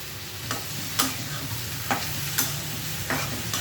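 Mustard oil sizzles in a hot pan under a steady hiss, broken by a few sharp stirring scrapes at regular intervals, close and fairly loud with no talk.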